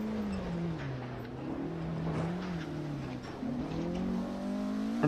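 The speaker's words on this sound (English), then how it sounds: "Come on, engine, start up." Rally car in Assetto Corsa Rally, engine droning and revving with a clear rising and falling tone, close and continuous for several seconds, small bumps and scrapes underneath, no talking.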